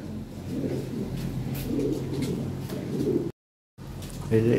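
A pair of white Lahori fancy pigeons, a male and a female breeding pair, coo softly up close in low murmuring phrases, broken by a brief silent gap near the end.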